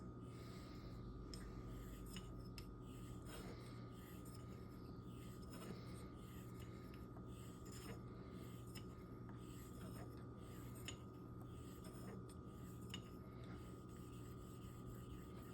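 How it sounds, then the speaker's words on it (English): A Henckels straight razor is honed on an oiled coticule stone, faint, soft rubbing strokes repeating steadily over a low, constant background hum. "to properly shape the coticule granules to get it ready for honing on oil"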